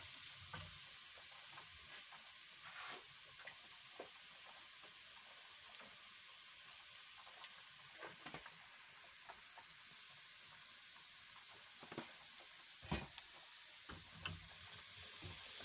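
Sweet potato fries bubble in hot oil with a soft, steady sizzle, punctuated now and then by light clinks and stirring scrapes.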